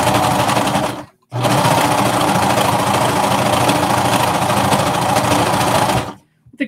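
A cover stitch sewing machine hems a knit skater dress, running in a fast steady buzzing whir, stopping briefly, then a long continuous run before halting again.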